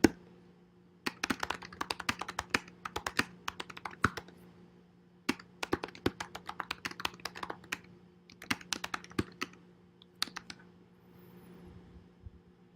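Keys on a computer keyboard are typed in quick irregular bursts of sharp clicks separated by short pauses, close and clear over a faint steady hum.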